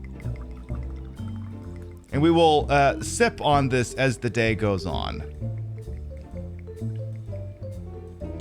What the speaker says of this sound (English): So I'll go ahead and pour this.